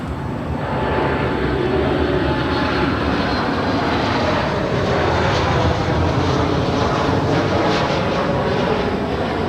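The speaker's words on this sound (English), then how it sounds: "here is WestJet 1100, 737 MAX 8, speaking of which. Coming in from Toronto, YYZ" WestJet Boeing 737 MAX 8 landing at LAX in from Toronto, its engine roar swelling after the first second and holding strong and steady as it passes, with no talking.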